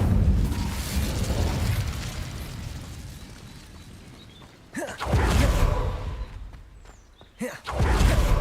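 Incendio fire spell blasts cast in Hogwarts Legacy, a run of loud whooshing bursts with sharp flaring impacts near the five- and seven-second marks over a dense rumbling game backdrop.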